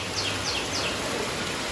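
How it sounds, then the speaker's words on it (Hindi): Heavy rain falls steadily as a dense, even wash of noise through the whole stretch, with faint bird chirps above it and no talking. "ओ भाई बहुत तेज बारिश हो गई।"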